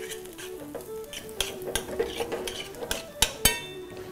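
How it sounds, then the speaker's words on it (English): A spoon scrapes and clinks against a pan while shallots and herbs are stirred, giving a series of sharp metallic taps and scrapes in an irregular rhythm over a quiet kitchen background. "Now I'll give that a little stir as we want all the ingredients to come together."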